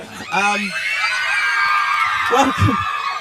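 Fans scream and cheer at a film cast interview for The Fault in Our Stars in the UK, a loud, sustained high-pitched crowd shriek filling the clip with voices rising over it near the end.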